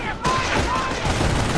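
Rapid bursts of gunfire crackle and rattle in a Company of Heroes World War II battle at Vierville, with fusillades overlapping under shouted voices.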